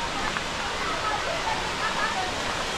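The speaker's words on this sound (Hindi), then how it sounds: "देखते हैं, झरने की आवाज़ आ रही है इधर से साइड से।" Rajdari waterfall near Varanasi in Chandauli roars as a dense, constant broadband rush, loud and unbroken throughout the short stretch.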